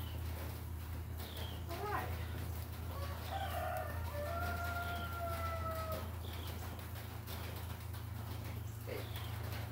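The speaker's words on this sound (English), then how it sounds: "That would be our rooster, Red." A farm rooster crows a few times at mid distance over a steady low hum and scattered outdoor bird calls, with no talk.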